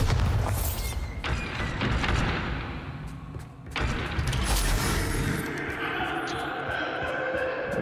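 A Bombarda blast spell going off in a wizard game: a heavy boom early, then a second big burst mid-way, followed by rumbling debris and scattered clicks with no talking.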